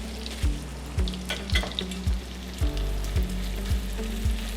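Meat sizzles in a pan with rosemary oil, garlic and melted mint jelly as it is basted, with a rhythmic series of spoon scoops and pours breaking through the constant frying hiss; no talking.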